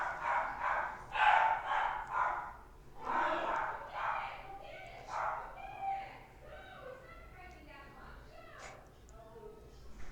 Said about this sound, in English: There go the dogs again.